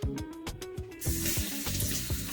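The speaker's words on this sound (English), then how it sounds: "And of course I wash it" Vegetables being rinsed under a running kitchen tap, a steady hiss of flowing water with splashing and handling clatter, preceded by a second of rhythmic knocking or chopping-like taps, close and fairly loud with no talking.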